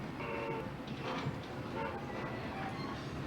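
A train rolls steadily along with a constant rumble and rattle, interior noise of a moving carriage, faint voices mixed in.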